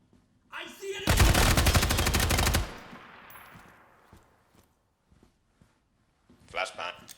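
Ground Branch tactical shooter gameplay with a loud sustained burst of rapid automatic gunfire that dies away into a long echoing tail, followed by quieter noises and a short later sound.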